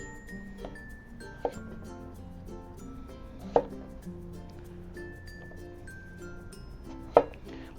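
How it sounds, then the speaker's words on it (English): Skin-on potatoes cut into quarter-inch wedges with a kitchen knife on a board: three sharp, well-spaced chops standing out over quiet background music. "take our potatoes and cut them into wedges"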